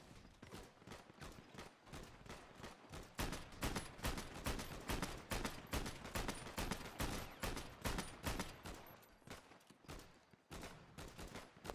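Rapid automatic gunfire on a GTA roleplay server, dense continuous bursts of shots at a factory, fairly distant and low in level, running without pause the whole way.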